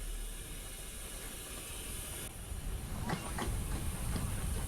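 Steam locomotive Green Arrow coming to a standstill on a railtour, a broad steady hiss and rumble rising slightly toward the end, with a few faint metallic clanks near the close and no voices.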